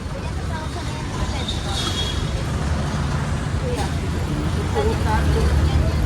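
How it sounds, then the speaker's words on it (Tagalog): Dense road traffic outside Divisoria market in Manila's Chinatown, a continuous rumble of buses, cars and engines nearby, mixed with crowd babble and occasional horn-like tones. "Grabe, traffic."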